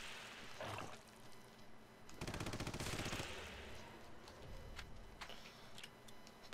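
Rapid pistol shots from the video game Red Faction, fired in a tight burst of sharp cracks with scattered single shots before and after, over a steady game background hum.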